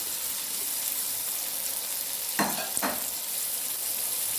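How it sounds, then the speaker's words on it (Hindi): Peas tipped into hot spices frying in a pan for vegetable pulao: a steady soft sizzle, then two quick scraping clatters as they go in, with the sizzle carrying on afterwards. "अब मैं मटर इसके अंदर ऐड कर रही हूँ"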